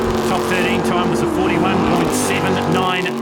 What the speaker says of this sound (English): The boat is obviously a Sprint-Tech G-Force powered by a 575 cubic inch track sport engine